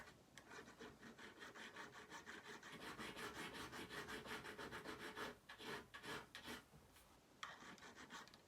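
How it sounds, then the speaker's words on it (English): Guitar frets on a Gretsch metal guitar being sanded with sandpaper, a quiet rapid back-and-forth rasping that runs steadily through the clip with brief pauses near the end, no talking. "I want to use the sandpaper on this one also"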